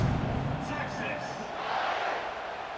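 A stadium crowd roars in College Football 26 as Texas lines up to kick off, a steady broad wash of noise with a few higher shouts rising above it.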